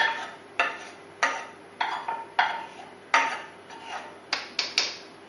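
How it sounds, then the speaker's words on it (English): A spoon knocks against a pan to shake loose stuck grains of cooked rice, about a dozen sharp metallic taps in an irregular rhythm, close and clear with no talking. "We're hitting the pan because you get grains of rice stuck."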